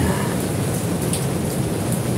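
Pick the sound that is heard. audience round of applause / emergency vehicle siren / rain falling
rain falling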